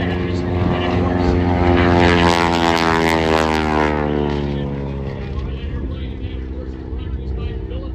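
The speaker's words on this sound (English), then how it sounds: "that big 985 cubic inch Pratt Whitney radial engine spinner here" Aircraft with a 985 cubic inch Pratt & Whitney radial engine roars loudly past at an airshow, its propeller drone rising then sweeping down in pitch as it passes, with an announcer talking over it.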